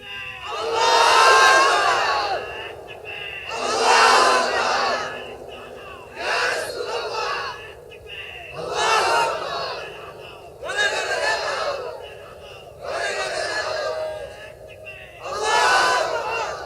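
A large crowd at an outdoor Islamic sermon shouts the takbir chant in unison, in roughly seven loud, rhythmic bursts separated by brief pauses as a leader calls each one out.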